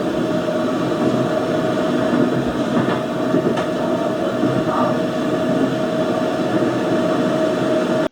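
Steady loud rumble of a subway train in motion, recorded as call background through Soundpeats Capsule3 Pro+ earbuds, with a constant roar, faint rail clatter and an occasional high squeal, no voices.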